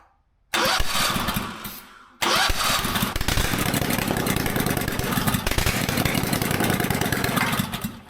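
A Ditch Witch 1820 trencher engine cranks and catches, falters for a moment, then restarts and runs loud and close at a steady rough idle, with no talking.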